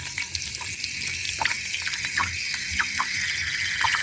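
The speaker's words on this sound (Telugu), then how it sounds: "10 minutes అయ్యాక గ్రేవీకి తగినంత వాటర్ యాడ్ చేసుకొని మిక్స్ చేసుకోవాలి" Water poured into a simmering homemade chicken curry gravy and stirred, a soft bubbling sizzle with scattered splashes and spoon scrapes close by.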